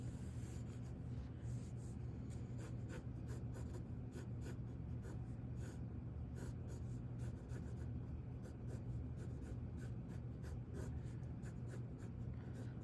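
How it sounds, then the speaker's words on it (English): A pencil drawing lightly on paper while sketching a McDonald's still life, giving a faint, steady scratchy rubbing of continuous strokes, quiet and close, with no talking. "Draw nice and light so that you can erase any mistakes that you've made."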